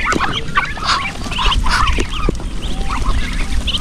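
Ducks quack repeatedly in a noisy cluster, several birds calling over one another at close range with a low outdoor rumble underneath.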